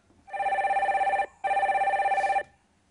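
Incoming call on a telephone: two bursts of electronic ringing, each about a second long with a short gap between, clear and moderately loud with no talk over it.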